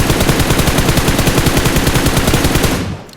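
Rapid automatic gunfire from a mobile shooter game fires in a continuous, evenly spaced loud burst for about three seconds, then cuts off and fades, with no talking over it.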